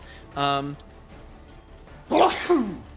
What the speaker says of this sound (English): That sneeze turned into damage.